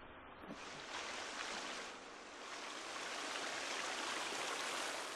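A running stream in the video game The Forest gives a steady, full rushing hiss of water that swells slightly partway through, close and continuous with no talk.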